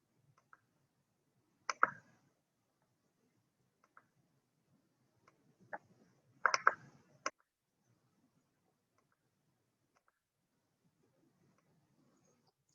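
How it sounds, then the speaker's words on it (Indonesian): Mouse clicking while working in Promodel simulation software, sparse sharp clicks, some in quick pairs and clusters, separated by long near-silent gaps. "Kita klik satu persatu."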